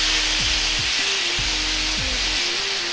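Pork belly frying in a pan gives off a steady, dense sizzle that runs the whole time, with a few low tonal sweeps from the cooking beneath it and no voices.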